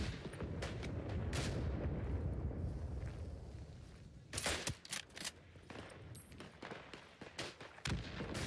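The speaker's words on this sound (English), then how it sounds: "Artiglieria in arrivo!" Artillery and rifle fire in the World War I shooter Isonzo: a dense rumbling barrage gives way to a string of sharp, loud bangs and cracks in irregular bursts, some close and punchy, others more distant.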